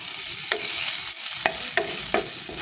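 A large octopus sautés in a hot pan, browning with a steady sizzle and occasional sharp clinks and scrapes of stirring, close and without talk.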